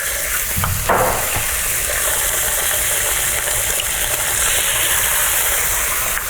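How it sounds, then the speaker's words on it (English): Two whole eggs plus extra egg whites frying in a pan, a steady, close hiss and sizzle throughout with a brief louder crackle near the start as the eggs go in, no talking. "it's about time we can add our eggies"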